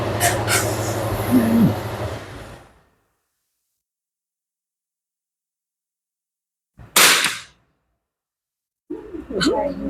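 A single sharp shot rings out from a CZ 457 Jaguar rifle at an outdoor shooting range. It comes after a stretch of talk and a long quiet pause, and more voices follow shortly after.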